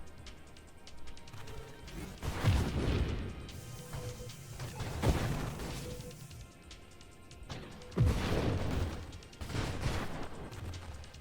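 Explosions in the space shooter Nova Drift, several heavy booming blasts arriving in waves a few seconds apart, each swelling and fading over a constant rumbling game backdrop.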